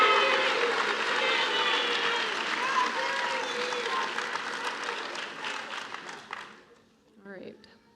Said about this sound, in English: how about a round of applause for Mr. Gibson?